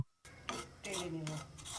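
Semolina and rice flour are fried in ghee in a frying pan, with a soft sizzle under scraping and rubbing strokes of a spoon against the pan, close and quiet, starting after a brief silence.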